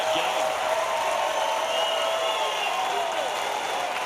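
A tennis crowd at the US Open cheers and claps in a steady, dense roar of applause that holds at the same level from start to finish, with no voices standing out above it.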